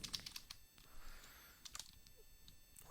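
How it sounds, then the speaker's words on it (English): Close, quiet keystrokes on a computer keyboard while code is typed, coming in irregular bursts of clicks with short pauses between them. "Having a little trouble typing here."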